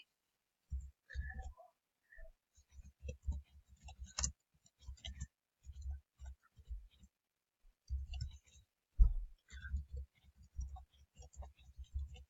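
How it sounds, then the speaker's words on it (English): Quick runs of soft, close keyboard key clicks come in short bursts separated by brief pauses, with almost nothing else audible behind them. "I'm just gonna quickly type in what I'm going to say"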